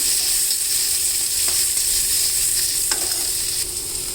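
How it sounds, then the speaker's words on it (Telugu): Onions sizzle steadily in hot oil in a pan for a curry leaf-greens fry, a dense continuous hiss with a few faint stirring clicks, close and fairly loud, no voices. "ఉల్లిపాయలు కాస్త వేగినాయి."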